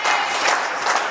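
Spectators at the 2025 Canadian National Championships squash match applauding a good shot, a brief, steady patter of many hands clapping at moderate distance, with a faint voice mixed in.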